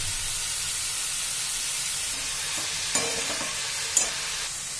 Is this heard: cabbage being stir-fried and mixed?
yes